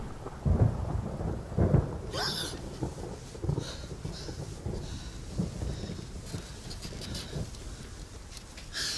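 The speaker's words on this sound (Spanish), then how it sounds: "Las tormentas me alteran muchísimo." A thunderstorm rolls on with steady rain, low booming thunder and a few sharper cracks breaking through, all at a moderate, somewhat distant level.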